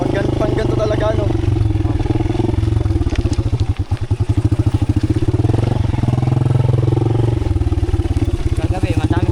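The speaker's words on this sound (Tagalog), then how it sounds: "Grabe ang tibay ng motor nyo." A motorcycle engine runs loud and close throughout, a steady throbbing drone with rapid rhythmic pulses and some rattling, heard while riding between Tarlac and Zambales.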